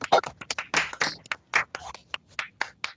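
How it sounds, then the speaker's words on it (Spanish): Scattered, uneven hand claps for an engineer after his presentation in an online session, a few participants clapping over open microphones, sharp and close with short gaps between bursts. "quiero que abramos los micrófonos y le demos un fuerte aplauso al ingeniero Calderón por su presentación"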